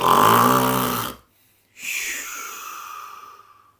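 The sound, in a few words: imitated giant snoring in a story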